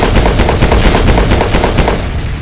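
Video game gunfire, a loud rapid burst of repeated automatic shots in a steady rhythm that cuts off at the end.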